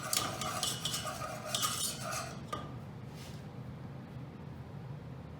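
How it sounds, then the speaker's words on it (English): A whisk scrapes and clinks against a pan while flour is worked in, a quick busy metallic stirring that is strongest in the first half and then settles into a softer, steady background hiss. "Whisk it in, make sure it's nice and incorporated."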